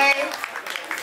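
A crowd at an EP release performance claps for itself in a short burst of scattered applause. It follows a brief tonal sound and runs alone for about a second.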